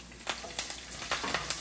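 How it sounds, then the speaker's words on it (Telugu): A tempering of curry leaves sizzles in oil for a coriander chutney, heard as soft, quiet bursts of hiss and crackle in a loose repeating rhythm, close but faint, with no talk. "సో ఆయిల్లోనే తాలింపు వేసేస్తున్నాను, పోపు వేసేస్తున్నాను."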